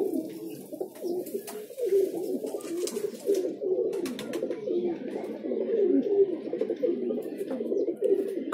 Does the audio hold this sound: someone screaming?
no